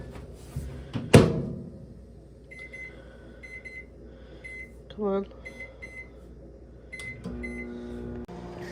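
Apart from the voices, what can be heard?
microwave oven heating soup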